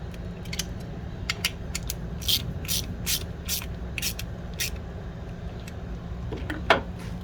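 A wrench ratchets lock nuts tight on a battery main-power fuse mount in a 1990 454 SS with an LS swap, quick bursts of close, crisp clicking in uneven runs over a low background hum.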